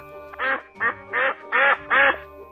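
Ducks quack five times in a quick, uneven series, each call loud, nasal and close, with short quiet gaps between them.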